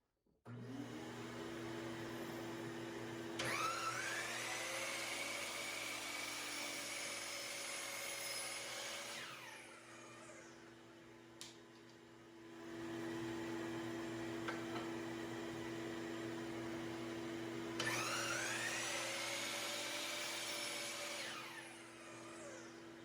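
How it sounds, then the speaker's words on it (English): A shop vac drones steadily close by throughout, while a Kobalt 12-inch sliding miter saw spins up with a rising whine and cuts half-inch plywood twice, each cut ending as the blade winds down. "Turn on the shop vac."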